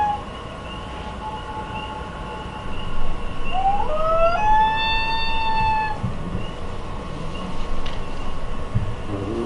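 A recorded loon call played back through a speaker, a rising wavering tone that holds for a few seconds before fading, heard faintly over a steady background hum, with no talking.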